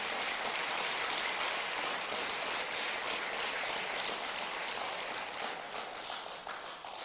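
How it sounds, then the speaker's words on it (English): Applause for the Street Department during the Youngstown mayor's State of the City address, a dense, even roar of many hands clapping that holds steady before thinning slightly toward the end. "Give them a big round of applause."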